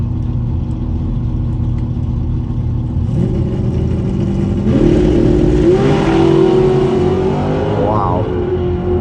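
A stock BMW 335i launches down a quarter-mile drag strip with traction control off and sport mode engaged, engine note rising steadily and loud through the run, with shift-like breaks, under background crowd and track noise.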